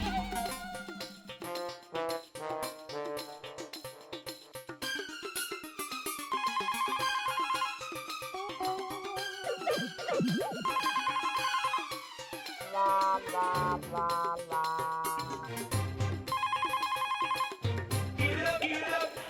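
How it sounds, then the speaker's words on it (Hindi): A telephone rings repeatedly in an electronic tone pattern that runs on and on, unanswered, mixed with background music in a TV sitcom scene. "नटू काका, मेरा घर पे फोन लगाना तो।"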